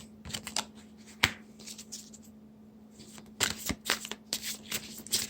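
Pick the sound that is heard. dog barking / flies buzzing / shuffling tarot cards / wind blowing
shuffling tarot cards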